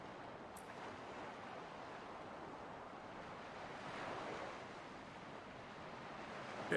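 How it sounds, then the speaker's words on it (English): Water waves wash steadily in the video game Flotsam, a soft, continuous wash of surf with a gentle swell partway through and no talk. "There's water over there."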